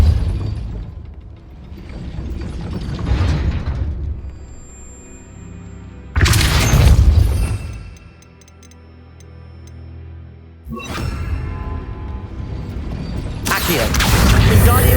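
In Hogwarts Legacy, a Depulso spell fires three loud separate bursts, each a sharp whooshing blast that fades back into quieter game ambience between casts, close and forceful.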